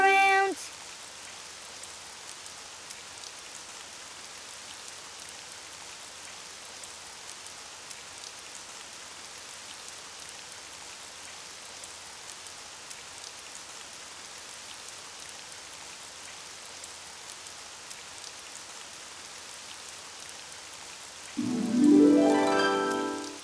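Steady, even hiss of rain falling throughout, fairly quiet and constant, with a brief louder clatter near the very end.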